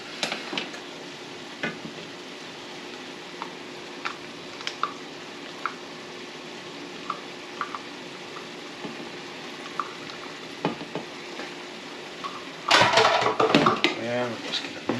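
Ground beef with fresh ginger and teriyaki sauce frying in a skillet gives off a soft sizzle with scattered utensil scrapes and clicks as it is stirred. A louder clatter of stirring comes near the end.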